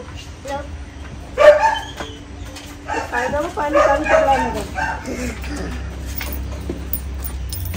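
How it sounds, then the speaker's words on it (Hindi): A dog named Tony barks in short, sharp yaps and whimpers, with a loud burst early on and more barking in the middle, mixed with people talking nearby. "भौंकना शुरू कर दिया उसने।"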